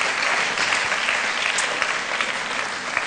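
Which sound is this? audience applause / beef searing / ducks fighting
audience applause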